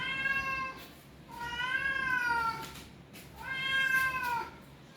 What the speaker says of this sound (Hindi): ये बिल्लियाँ हैं सिर्फ यहाँ पर